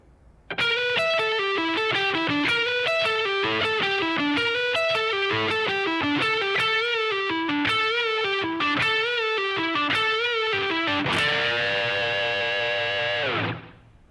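An electric guitar with distortion plays a slow funk rock lick: a run of clear, evenly picked notes with bends, ending on a sustained double-stop bend that rings out and fades, with no talking.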